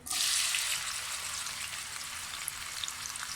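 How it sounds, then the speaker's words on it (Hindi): Two medium chopped onions dropped into hot oil, bursting into a loud hissing sizzle that settles into a steady, slightly softer crackle with occasional pops. "उसी ऑयल में फिर हम प्याज डालते हैं, 2 मीडियम साइज़ के चॉप किए हुए।"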